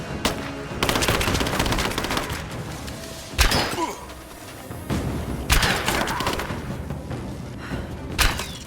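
Gunfire in Rise of the Tomb Raider: sharp, loud bursts of shots and rattling automatic fire in irregular volleys, mixed with thuds and splintering impacts amid ongoing combat noise.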